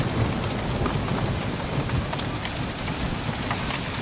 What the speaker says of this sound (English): we got hail about the size of